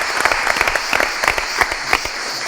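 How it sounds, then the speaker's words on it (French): A studio audience on a French TV quiz show applauds steadily, a dense wash of many hands clapping throughout, loud and close. "je vous demande d'applaudir quand même pour elle."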